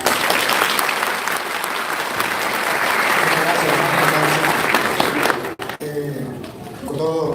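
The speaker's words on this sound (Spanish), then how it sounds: "Denle un aplauso al Señor." Loud applause from a church congregation, dense sustained clapping that dips briefly before a voice begins speaking near the end.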